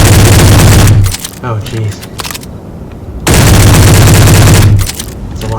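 Heavy automatic gunfire with strong recoil from a weapon in the game Space Engineers, two loud sustained bursts separated by a pause in which a voice briefly exclaims.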